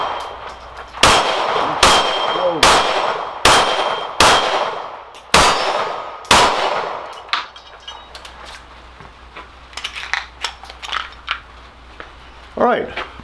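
A pistol, a Bear Creek Arsenal Grizzly with a Glock-style trigger, fires about seven sharp, evenly spaced shots that each ring off steel target plates with a bright metallic clang, followed by quieter clatter and scattered knocks.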